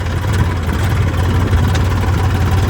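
A tractor engine runs at a steady low rumble close by, with no pauses and no voices over it, while it works a field.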